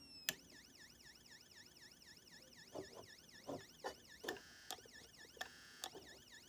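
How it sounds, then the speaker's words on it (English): A GALLS ST105 electronic siren cycles through its fast yelp tone, a steady rapid warbling wail repeated throughout, with several sharp clicks and taps punctuating it in the latter half. "Here's the yelp."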